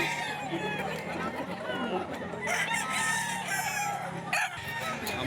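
Gamecocks for sale, including a Cardinal Kelso, crow at a market in Bocaue while a crowd chatters around them, with mid-distance calls rising over steady background talk.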